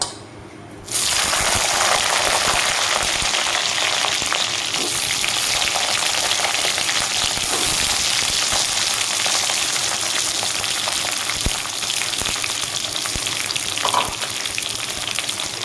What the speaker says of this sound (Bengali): এখানে আমার তেলটা গরম হয়ে গেছে দিয়ে দিব বেগুনগুলো